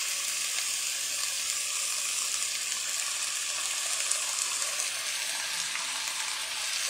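Vegetables for veg macaroni fry in a pan with salt, vinegar and chili sauce being mixed in, giving a steady, close hiss and sizzle that holds evenly throughout with no talking.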